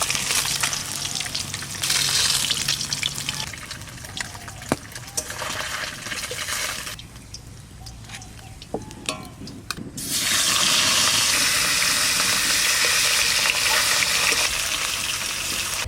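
Loud, steady frying sizzle of rohu fish pieces in hot oil, dipping quieter for a few seconds midway before surging back to a dense crackle.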